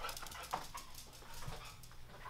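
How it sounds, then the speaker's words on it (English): A dog outdoors near a farm with hay makes soft whimpers and panting, faint and brief against background noise, with no talking. "Try to get this dog inside."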